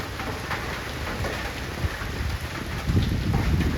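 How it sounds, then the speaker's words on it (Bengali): Wind blowing over open farmland with a few light raindrops falling under a cloudy sky, heard as a steady, close, rushing noise that swells slightly near the end. "এই কি পরিমাণে হাওয়া দিচ্ছে আর বৃষ্টি পড়ছে এক ফোঁটা দু ফোঁটা করে।"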